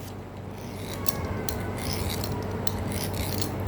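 A knife works through rolled nimki dough, making soft repeated scraping and rasping strokes against a board. A low background hum sits beneath the quiet cutting sounds.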